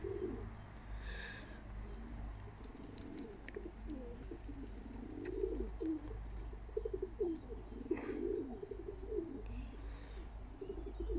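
Pigeons coo in a loft, soft repeated throaty calls overlapping at close range, with a faint chirp or two over a steady low background hum and no talking.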